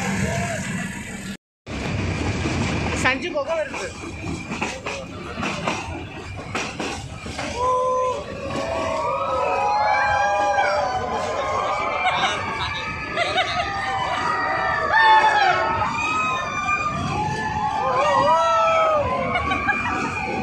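Family members shouting and whooping inside a large tunnel on a trip to Ooty, voices echoing loudly and overlapping in playful bursts with laughter, sustained for many seconds after a brief quiet moment.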